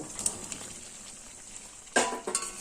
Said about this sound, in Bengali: এবার এই আলু কচু আর মশলা খুব ভালোভাবে মিশিয়ে দিচ্ছি